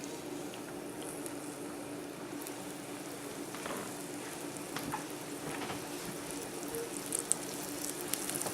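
Liver cooking in a skillet with a little hot oil, a soft steady sizzle and faint crackle heard close, with a few light clicks and scrapes near the end and no voices.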